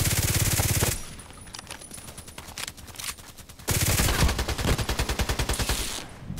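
Gunfire in a sniper-rifle shooter video game: loud, rapid bursts of repeated shots at the start, a quieter stretch of scattered cracks, then another long, close, driving volley.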